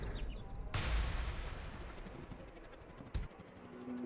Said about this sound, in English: A lot less of a dramatic explosion there.